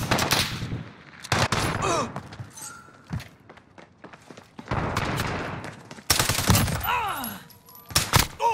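Gunfire in the video game Call of Duty: Modern Warfare comes in repeated automatic bursts and single heavy shots, loud and close, with brief gaps and a voice speaking between them.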